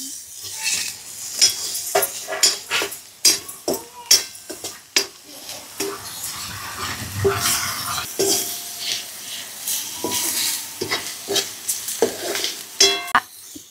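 Tomatoes with onion fry in a pan as a spoon stirs and presses them, giving repeated clinks and scrapes of utensil on metal over a steady soft sizzle, with no one talking.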